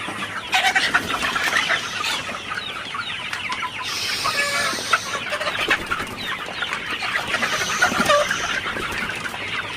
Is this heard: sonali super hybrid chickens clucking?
yes